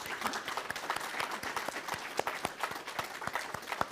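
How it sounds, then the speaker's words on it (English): Audience at a conference panel discussion applauds the panelists, a steady patter of many hands clapping with sharp individual claps standing out, moderately loud and continuous. "should we give them a round of applause?"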